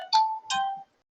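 An incoming call rings on a mobile phone during a physics lesson, a short two-tone chime, the first note bright and the second lingering, loud and close in a quiet room.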